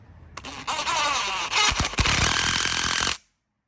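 An impact-style power tool tightening a pulley nut on a Toyota Yaris during a clutch replacement, a loud rattling hammering burst lasting about three seconds before stopping abruptly.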